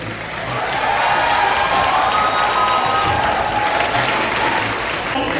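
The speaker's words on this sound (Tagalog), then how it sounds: "masigabong palakpakan at hiyawan ang narinig ng i-anunsyo ang pangalan ni Poe" A large crowd at a political proclamation at the PICC bursts into loud applause and cheering, rising quickly after a brief lull and holding as a thick, continuous roar of clapping and shouts.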